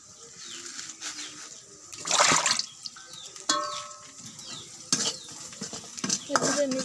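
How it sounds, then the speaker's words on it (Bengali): Noodles fry in a pan over a low, faint sizzle, while a utensil stirs and scrapes with scattered sharp metallic clinks and clanks at irregular intervals. "এভাবে আমি জাল দিয়ে নুডলসটা ভেজে নেব।"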